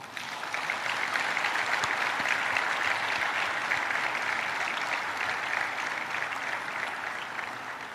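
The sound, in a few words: audience applause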